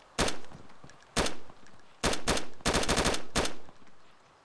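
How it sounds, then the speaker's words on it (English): Gunfire from the new M4 rifle in DayZ, loud and close: a single shot, another shot, then several rapid bursts of automatic fire with brief pauses between them, heavy and punchy with no talking. "One of the first things I'm going to cover is the new M4 sound."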